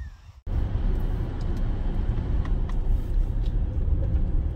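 A car driving along a road in the evening, with a steady low engine and tyre rumble that starts abruptly after a brief quiet moment and continues evenly throughout.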